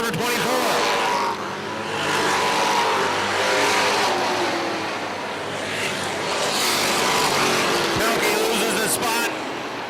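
Race cars run side by side at Airborne Speedway, engines roaring loudly and steadily with swells as they pass, while an announcer calls the race over the noise.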